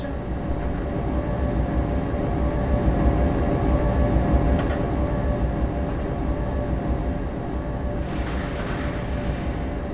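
A train runs in the Trainz Railroad Simulator 2019 video game, giving a steady loud rumbling drone with a constant rolling texture. A faint brief hiss rises near the end.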